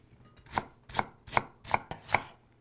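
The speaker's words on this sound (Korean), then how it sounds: "이렇게 해서 그냥 조그맣게 썰어 주세요." A knife chops green onion on a board in five even, crisp strikes about a beat apart, close and clear, with nothing else heard.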